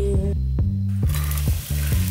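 Chopped onions, celery, carrots and garlic sizzle in a pan for homemade lasagne, a steady close frying hiss broken by several rhythmic clicks and scrapes from stirring.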